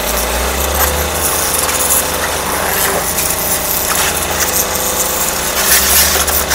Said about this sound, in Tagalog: Kapag hininaan ko to, ayun. Nagahina din yung generator.